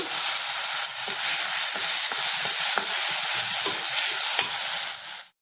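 Washed toor dal roasting and being stirred in a hot pan, giving a loud, continuous sizzling hiss broken by faint scraping ticks from the stirring, with no voices.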